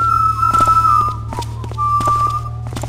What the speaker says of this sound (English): I hear. Yep, two sets of footsteps.